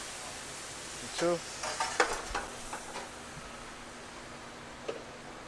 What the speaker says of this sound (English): we'll add our white wine deglaze around the pan